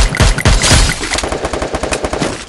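Loud rapid bursts of gunfire in the video game Free Fire, heavy shots at first and then a fast, steady stream of automatic fire.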